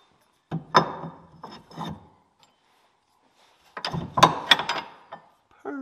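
Carbide saw blade cutting metal pin stock, heard as two short bursts of rasping, grinding contact separated by a quiet gap, fairly close and loud.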